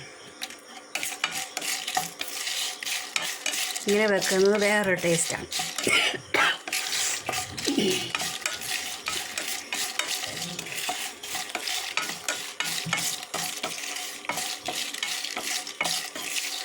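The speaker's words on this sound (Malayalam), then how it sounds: "ഇത് മുളക് വറക്കുവാണ്." Dried red chillies roast in a pan for a ground roasted-chilli curry, with a steady dry sizzle and stirring scrapes running throughout, a cough and throat clearing near the middle, and a person talking over it.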